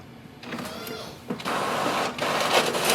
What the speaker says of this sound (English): once your printer starts to print, when the printhead is moving